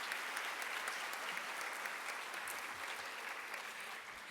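Sustained audience applause at a school convocation honoring the principal and superintendent, a broad, even wash of clapping that fades slightly toward the end.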